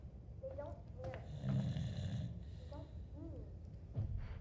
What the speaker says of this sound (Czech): Jak chrápe otec.